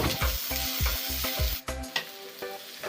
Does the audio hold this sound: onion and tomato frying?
yes